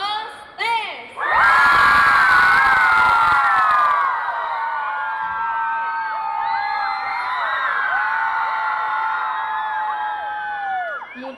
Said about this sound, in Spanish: quiero que a las 3 digan, griten lo más alto que puedan